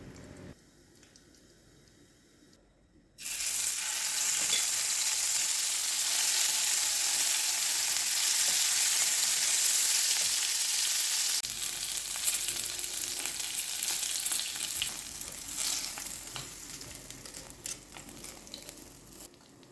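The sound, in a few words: deep-frying gourami fish in oil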